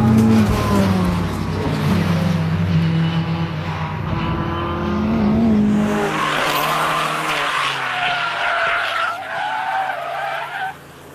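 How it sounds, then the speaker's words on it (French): Race car at a paddock-and-track event at Lurcy-Lévis, its loud engine firing up and driving off with tyre squeal and skidding, revving sustained throughout before easing toward the end. "Oh Daniel démarre la bête."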